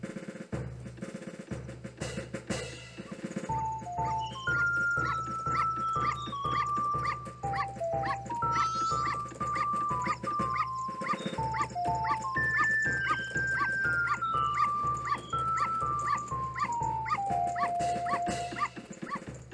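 A dog in the Majora's Mask 3D video game yips, whimpers and barks repeatedly, close and loud over a continuous melodic game music tune with no talking.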